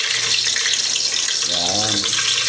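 Garlic dropped into hot oil in a pan while cooking a vegetable dish with sardines, giving a steady loud hiss of sizzling with a brief bubbling crackle partway through.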